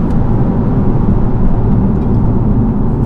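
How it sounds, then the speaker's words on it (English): 2019 BMW M135i at full throttle, a steady loud engine drone with a dense low rumble heard from inside the car, sustained without a break. "what we're going to do is just go full throttle, second, third, that's when we get that rush of torque"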